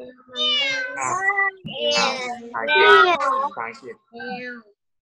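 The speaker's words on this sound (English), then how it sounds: "The cat is loud." Several drawn-out, insistent cat meows in a row, loud and close, separated by short pauses.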